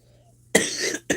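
A sharp cough bursts out, rasping for about half a second, then a second cough begins right after, close and fairly loud.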